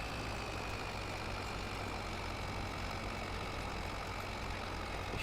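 A small tractor engine in a cold-weather farming game runs with a steady, even idling drone, continuous and fairly quiet, with no talk.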